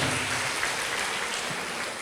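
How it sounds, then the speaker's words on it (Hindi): A church congregation at a Sunday prayer service applauds to thank God, a steady wash of many hands clapping together with no breaks, fairly loud and even throughout. "ताली बजा के परमेश्वर को धन्यवाद दे"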